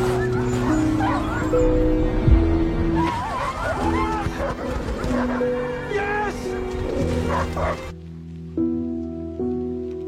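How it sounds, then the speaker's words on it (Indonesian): Sled dog barking and yipping with whimpers amid dramatic orchestral music, the barks repeating at mid distance through the passage while rain patters faintly in the background. "Togo yang mengetahui suatu bahaya di depan sana berhenti berlari dan menggonggong ke arah Sepala."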